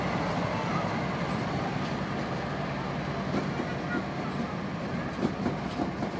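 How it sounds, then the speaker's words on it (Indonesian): KA Cikuray passenger train pulling out of a station, a steady loud rumble of wheels and carriages rolling close by with faint clatter throughout. "Pas sampai ke sini pas berangkat KA Cikuraynya."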